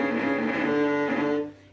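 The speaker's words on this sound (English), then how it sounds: "If you're hearing a crunchy sound like that, it means you're pushing way too hard on the bow." Cello open string bowed with too much pressure, giving a harsh, crunchy, gritty sustained tone that holds steadily for over a second before the bow stops and it fades.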